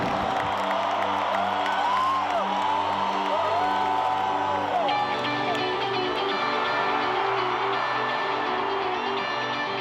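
A concert crowd at a show in Brazil cheers and roars continuously, a dense wall of voices mixed with loud music from the stage.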